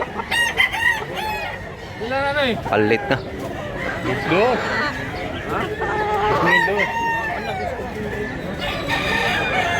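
Roosters crow repeatedly among clucking fowl, several birds near and far overlapping in rising and falling calls, with people talking throughout.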